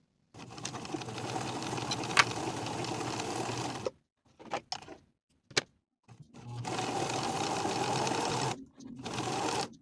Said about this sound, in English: I'm going to be using a narrow zigzag stitch.